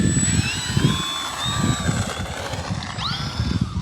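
An RC model F4U-4 Corsair airplane with a 1.1 m wingspan taking off outdoors, its electric motor whining with rising and shifting pitch over a steady wind-like rush, fairly close and continuous.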